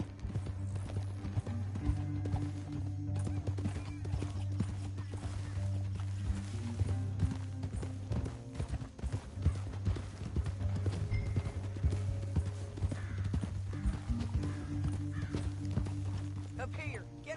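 Horse hooves clip-clop steadily in the Red Dead Redemption 2 video game, a continuous rhythmic patter under droning game music and voices talking.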